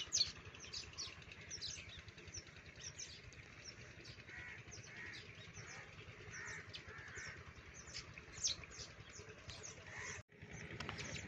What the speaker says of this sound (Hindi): तो दोस्तों, परिंदों की चहचहाहट कैसी लग रही है आपको?